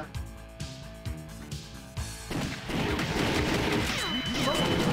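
Rapid gunshots in the arcade shooter The House of the Dead 2 on Wii: a few spaced shots and music, then a dense loud volley of firing with crashing hits. No speech is heard.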